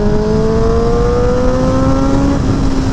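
A modded Honda CBR1000rr with a Bazzaz unit and a one-tooth-smaller front sprocket pulls hard in 4th gear. The loud, close engine note climbs steadily in pitch with clear harmonic whine, and no one speaks.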